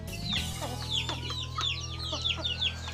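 Several short clucks from a recovering laying hen, kept apart from the rooster, repeat in loose bursts close by, over a steady low hum of farm background; no one speaks.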